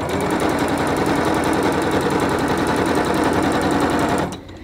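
A sewing machine runs in a fast, steady rattling stitch for several seconds, loud and close, sewing a pillowcase, then stops abruptly near the end with the needle in the down position.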